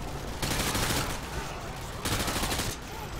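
Shots from a scoped K98 bolt-action rifle at a firing range in Call of Duty: Modern Warfare 2, two loud close reports about a second and a half apart, each with a booming tail.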